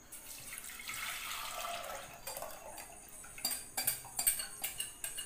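A spoon scrapes and clinks against a pan while milk and sugar are stirred for kulfi, first a soft swishing wash, then a quick run of bright metallic taps, close and fairly quiet.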